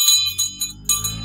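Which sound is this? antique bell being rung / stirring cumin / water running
antique bell being rung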